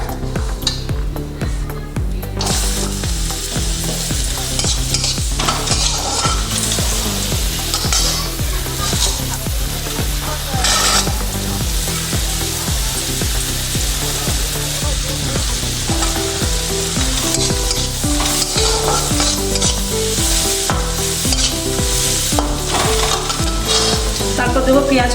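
Carrot going into a hot pan for chicken soup, frying with a steady loud sizzle while a utensil stirs and scrapes repeatedly, light clinks of cookware throughout, no talking.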